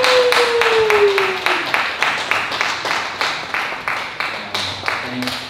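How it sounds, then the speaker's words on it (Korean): A small audience at a book talk claps to welcome Kang Hana, author of a book on North Korean defector life. The claps come in an even, rhythmic beat, close and loud, and a brief gliding tone is heard at the start. "나는 북한떼이다 저자 우리 책을 쓰신 강하나 작가님을 우리 박수로 맞이해주시겠습니다"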